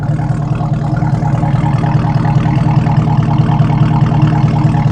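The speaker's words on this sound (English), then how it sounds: "We're just gonna come back here and let y'all hear that exhaust." Steady, loud idling rumble of a Chevrolet Camaro ZL1's Corsa Performance exhaust up close, a deep pulsing burble with no one talking.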